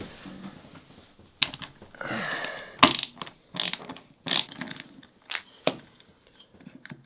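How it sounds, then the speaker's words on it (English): Screws being backed out of a snowblower engine's starter housing, with irregular ratcheting clicks and short mechanical bursts close by, separated by brief pauses. "So I should be able to unscrew this."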